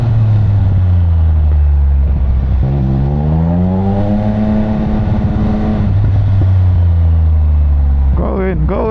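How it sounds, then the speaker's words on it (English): A motorcycle engine being warmed up idles with a deep, close rumble, then revs up through a long rising and falling sweep before settling back to idle, with another rev at the end. "just waking the bike up"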